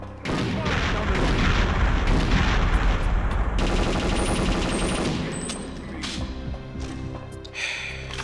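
Dense, loud booming gunfire and explosions from the N64 shooter Perfect Dark, a continuous barrage for several seconds that then eases into lighter bursts and game sounds.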